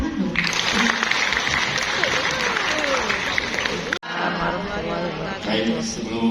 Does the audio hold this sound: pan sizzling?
no